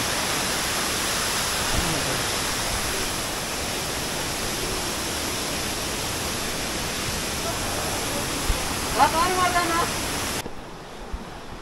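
Blue waterfalls reached after an adventurous trek: a steady, broad roar of falling water fills the whole stretch, close and constant, with a brief tonal sound near the end before it cuts off.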